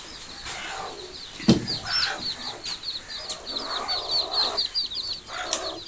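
Chickens in a backyard hen house cluck and chatter repeatedly at close range, with a brief flutter or knock partway through and no talking.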